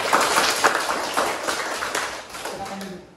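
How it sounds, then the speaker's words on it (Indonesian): Classroom applause for presentation group 4, a burst of clapping from several people that fades toward the end, with voices talking over it. "Oke, tepuk tangan untuk kelompok 4."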